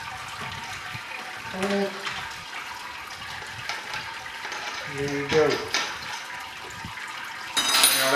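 Wort drains and trickles from a lifted Grainfather grain basket during a brewing sparge for a Sierra Nevada Pale Ale clone, a steady watery splash with a brief clink of equipment and a person speaking over it.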